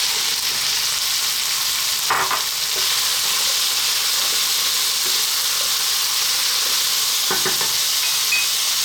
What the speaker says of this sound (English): now let's add our cooked chickpeas